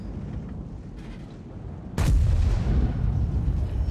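A tank cannon in World of Tanks fires once with a sudden loud boom, followed by a rumbling low battle roar that continues to the end, over steady engine-like background noise.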